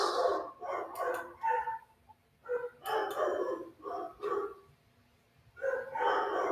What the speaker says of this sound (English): What's the name of the angry dog?